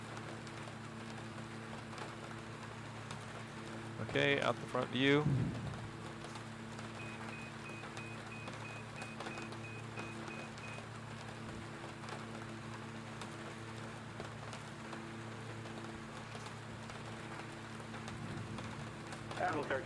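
Rain in the X-Plane flight simulator, flying a home cockpit from Portland to Tri-Cities: a steady, soft hiss of rainfall over a constant cockpit hum, with a voice speaking briefly partway through.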